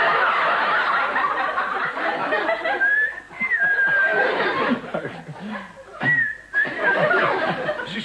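Voice imitating an Atlantic whistling shark with short rising whistles, heard under a loud audience laughing and chuckling.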